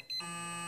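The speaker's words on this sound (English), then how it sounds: "And then you hear the beep." An electronic device gives a short chirp and then a steady, sustained beep that holds at an even level to the end, with no talking over it.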